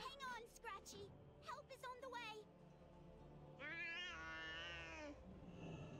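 A cat in World of Warcraft meows several times, with short cries and then a longer drawn-out wail, close and clear alongside a voice speaking in a game setting.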